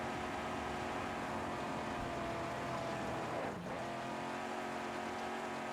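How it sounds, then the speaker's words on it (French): Car in the Mad Max video game driving at high speed, a steady loud engine roar throughout with a sweeping pass-by around the middle, no talk. "elle va méga vite la voiture."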